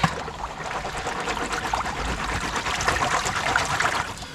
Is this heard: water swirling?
yes